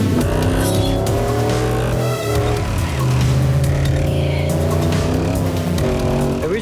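A lengthened-wheelbase Nissan Patrol off-road race car drives hard, its engine loud and close, revving and shifting through gears with a steady growl and brief rises in pitch.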